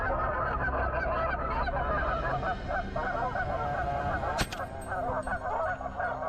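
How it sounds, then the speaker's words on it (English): A dense flock of wild geese honks continuously, many overlapping calls filling the whole stretch, with a brief sharp click partway through. "Wooden whistles, known as calls, are commonly used to mimic the sounds of geese"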